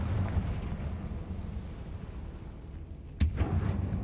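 In Hogwarts Legacy, a Confringo fire spell bursts with a sudden, sharp explosive crack near the end, following a low, rumbling ambient drone.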